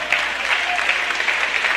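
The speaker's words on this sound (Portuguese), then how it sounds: "batam palmas e glorifiquem a Jesus" A church congregation claps together during a worship service, producing a steady, dense wash of applause that fills the whole moment without pause.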